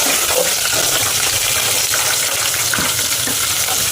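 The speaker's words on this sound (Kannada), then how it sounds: "ಇಷ್ಟನ್ನು ಒಗ್ಗರಣೆಗೆ ಹಾಕಿ ಚೆನ್ನಾಗಿ ಬಾಡಿಸ್ಕೋಬೇಕು" Curry leaves and green chillies sizzle and crackle loudly in hot tempering oil in a home kitchen, a continuous close frying hiss with occasional stirring clinks and no talk.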